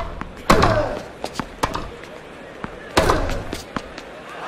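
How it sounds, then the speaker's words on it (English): Tennis ball hits and bounces in Grand Slam Tennis 2, Australian Open final: two loud racket strikes on forehand shots with crisp bounces between them, against a faint crowd background. "he thumped that forehand across court for a winner."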